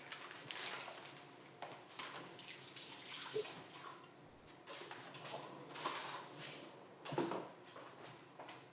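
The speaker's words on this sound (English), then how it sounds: "I'm gonna rinse my hands and get a spoon." Hands rinsed under a running kitchen tap while cooking, a close, fairly loud rush of water with splashing that shifts and surges as the hands move under the stream.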